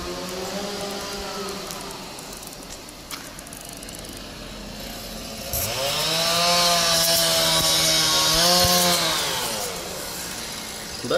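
A chainsaw idles with a buzzing drone, then revs up loudly as it bites into wood, holding high for a few seconds before easing back.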